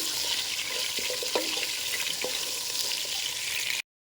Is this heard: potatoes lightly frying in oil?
yes